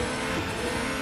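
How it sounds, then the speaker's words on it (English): A Formula 1 car in the Real Racing 3 game at the Austrian Grand Prix, its engine roaring loud and steady as it slows under braking, with a faint hint of tire noise and no talk. "sometimes you have to start jumping on the brakes"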